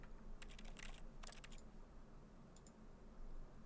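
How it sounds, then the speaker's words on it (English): Typing on a mechanical keyboard with red switches, a quick burst of soft clicks followed by a second short flurry, then a few faint taps against a steady low background hum. "Nice keyboard sound, thank you."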